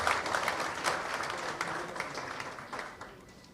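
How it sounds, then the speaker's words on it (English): Applause for the Honorable Custos Rotulorum at a Justices of the Peace commissioning ceremony in Kingston, Jamaica, a crowd clapping steadily at moderate distance and fading gradually over a few seconds. "Another round of applause for the Honorable Custos Rotolorum."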